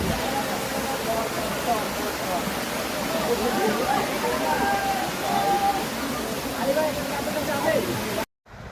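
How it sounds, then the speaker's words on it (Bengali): A waterfall in the Meghalaya hills near the Bangladesh border rushes in a loud, continuous broadband roar close by, steady throughout before cutting off abruptly near the end. "ফাইনালি ঝর্ণার সন্ধান পেয়েছি এখানে দুইটি ঝর্ণা আছে"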